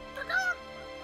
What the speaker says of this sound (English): I thought I heard a chicken clucking.